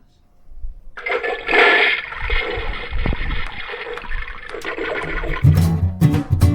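A toilet flushes loudly and close, a rushing gurgle of draining water that swells and churns for several seconds before fading as music enters at the end.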